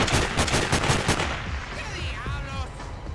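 Rapid machine gun fire in the Sniper Ghost Warrior shooter, a dense, loud burst of rattling shots for the first second and a half, then dropping away under shouting and game noise.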